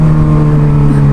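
A motorcycle exhaust muffler drones loud and close with a steady low hum, the engine holding a constant rev throughout with no voices.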